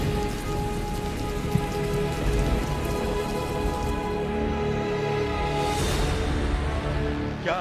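Steady rain falls on surfaces in Tehran, a dense, even patter throughout with a low hum beneath and no voices.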